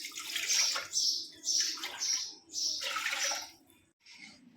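Two glasses of water poured into a cooking pot to boil cluster beans, heard as several splashy bursts of pouring separated by short pauses, close and moderately loud, no speech.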